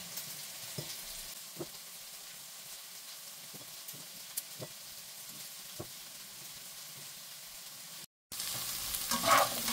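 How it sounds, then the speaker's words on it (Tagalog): Vegetables for chicken vegetable soup cook in a pot and are stirred now and then. A faint, steady sizzle runs under soft, scattered knocks of the spoon, then drops out briefly before a louder burst of cooking noise. "Haluin lang natin from time to time para hindi masunog ang ating vegetable"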